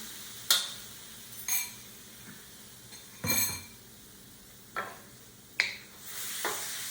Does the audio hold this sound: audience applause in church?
no